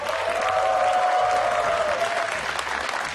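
A studio audience at a Malaysian television talent show gives sustained, dense applause throughout, loud and steady, with a presenter's voice faintly underneath at times.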